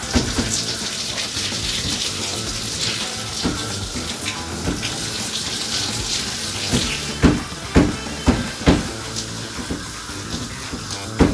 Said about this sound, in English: I didn't know I could do that with the shower thing